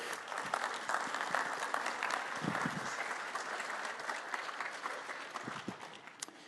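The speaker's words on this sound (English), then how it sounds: "So y'all clap for Kim and Sean as they come up here." Audience applause at a church community gathering, a steady wash of many hands clapping that carries evenly throughout, fairly loud and filling the room, with no voices standing out.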